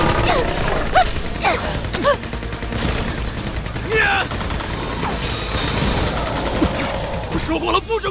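Gunfire in a thriller film scene on a spider-infested island, sharp shots and bursts scattered across the clip amid shouting voices, crashes and mechanical clatter.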